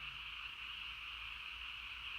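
Many frogs croak together in a steady, unbroken chorus, even in level and heard from a moderate distance over faint low rumble, with no speech.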